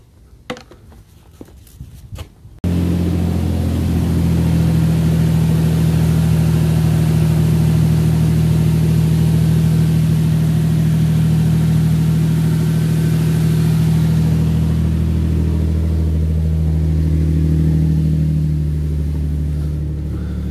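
A 2007 Nissan Xterra engine cranks briefly, catches, and settles into a loud, steady idle with a strong low drone that runs on evenly to the end.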